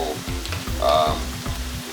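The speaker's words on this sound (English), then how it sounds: "One thing with the plantains, when you're frying them, you need to keep your eyes on them" Ripe plantains fry in hot oil with a steady, close sizzle, joined by a few rhythmic low knocks of turning or stirring in the pan, with no talking over it.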